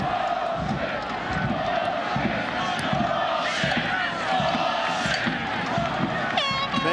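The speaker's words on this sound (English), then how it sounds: "Many in the crowd voicing their sentiment about the quality of the officiating so far." A soccer stadium crowd at a United States versus Jamaica match roars steadily with displeasure at the referee, a dense, continuous wall of voices with brief whistles and horn-like blasts rising out of it.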